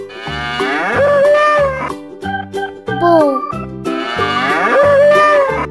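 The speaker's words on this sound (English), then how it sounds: "Bull." A bull gives long, deep moos, loud and close, set against a light playful melody.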